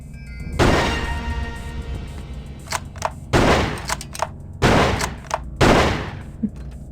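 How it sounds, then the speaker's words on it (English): Gunfire in the video game Blade Runner: several loud bursts of rapid shots, each a second or so long, separated by brief pauses, with sharp single cracks between them. "That's some good shooting."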